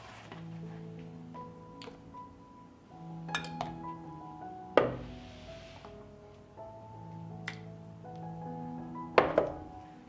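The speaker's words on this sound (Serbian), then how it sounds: "I izvadit ću tegle iz šerpe." Glass jars of pasteurised milk come out of a cooking pot, clinking sharply against each other and the metal twice, with fainter ticks and a low continuous hum between the knocks.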